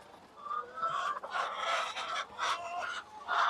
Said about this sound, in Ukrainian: Курочки стресують, якщо я зараз говорю